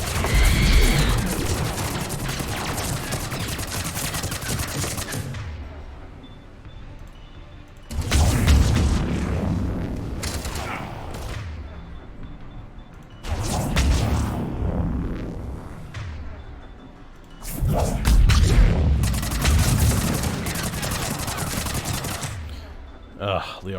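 Heavy video game gunfire in a battle against Banshees and Rachni, with long bursts of rapid automatic fire and booms coming in loud waves that are separated by brief lulls, and a voice calling out over it.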